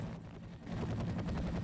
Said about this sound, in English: there's a helicopter just like chilling right there